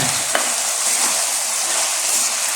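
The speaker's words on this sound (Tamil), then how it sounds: "நல்லா கிளறி விட்டுக்கோங்க" Mixed vegetables for a curry sizzle steadily in a hot pan while being stirred, with a continuous loud frying hiss and faint scraping close up.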